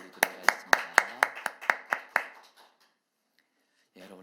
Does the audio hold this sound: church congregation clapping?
yes